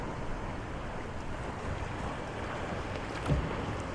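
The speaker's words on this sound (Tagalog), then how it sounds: "sakasakay na ako sa bangka" Steady wind and rushing water on open sea during a boat ride near Aguirangan Island, Camarines Sur, a continuous broadband roar with a brief thump near the end, no voices.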